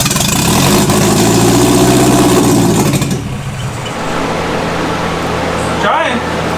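A British MGA sports car engine idles steadily up close, a loud continuous rumble that drops to a lower, rougher idle partway through, with a brief knock near the end.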